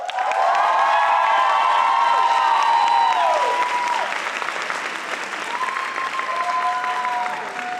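A crowd applauds and cheers loudly after a Chinese fan dance at a Lunar New Year showcase, with dense steady clapping, high shouts and whoops, and children's voices rising above it.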